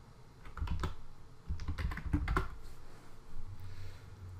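Keys clatter on a computer keyboard as a join code is typed in, two bursts of quick, close taps separated by a short pause, over a low background hum.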